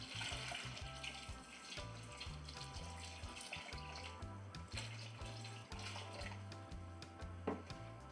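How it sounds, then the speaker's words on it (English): Water pours steadily from a jug into a pot of peas on the stove while making Jamaican rice and peas, a continuous splashing gush with low bubbling rhythm that carries throughout, close and fairly loud, with no talking. "in this jug I have water, and I'm going to add enough water to cover the peas."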